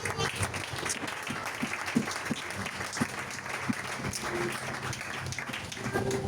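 A church congregation applauding and cheering in praise, a dense, continuous wash of clapping that holds steady throughout with a few voices faintly mixed in.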